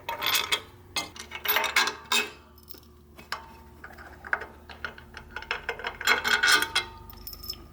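Loosening the pressure plate bolts on a Corvette 4+3 Doug Nash overdrive: a run of sharp metallic ratchet clicks and clinks in uneven bursts, close up and without talk.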